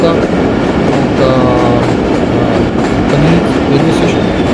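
Inside the Jaffar Express running through a long tunnel between Ab-i-Gum and Panir, a loud, steady roar of wheels and carriages rumbles continuously, with faint rhythmic clacking and a murmur of voices beneath.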